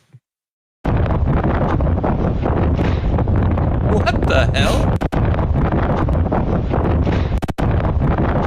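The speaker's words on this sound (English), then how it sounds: "Windy in Texas." Strong, steady wind in Texas roars and buffets the microphone almost throughout at an outdoor show, with a brief exclamation from a man partway through.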